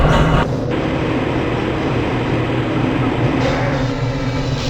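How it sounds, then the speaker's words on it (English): Black Mesa transit train from Half-Life: Blue Shift rolling along its track, a loud steady rumble and hum that holds level throughout with a brief shift near the start, no talk. "This train is inbound from the Area 8 topside dormitories to the Central Transit Hub in Area 9"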